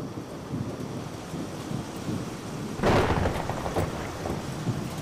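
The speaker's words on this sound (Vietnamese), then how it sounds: "mưa to quá" Heavy rain pours steadily in a Vietnamese animated fairy-tale scene, with a loud burst of thunder cracking partway through and rumbling on under the downpour.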